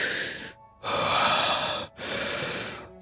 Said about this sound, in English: That heavy breathing makes me think like she's either dying or something